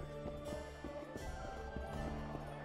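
Horse hooves clopping in The Witcher 2 video game, a steady rhythmic clip-clop of hoofbeats over a low, continuous game ambience, moderately close and even in loudness.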